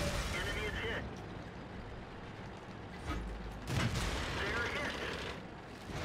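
Tank cannon shot in World of Tanks, a heavy booming blast around the middle of the clip amid rumbling battle noise, with faint game ambience before and after.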